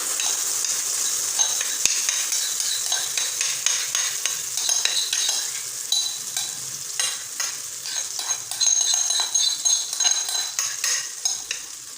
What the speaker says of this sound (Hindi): इसको चलाते हुए हम अच्छे तरीके से इसकी बुनाई कर लेंगे